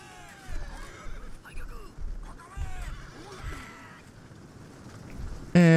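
Horses whinny in a Shogun Total War battle, several high, wavering neighs rising and falling in bursts over a low rumbling field din, with a sharp clatter at the very end.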